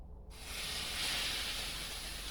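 Butter hits a hot pan and breaks into a loud, steady hiss after a brief quiet start, sizzling evenly without talk.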